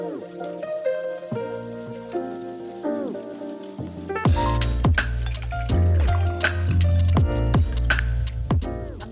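A jewelry cleaning machine filled with water and cleaning concentrate switches on partway through and runs with a constant low hum and busy bubbling and dripping. Tonal sounds and some talk can be heard before and under it.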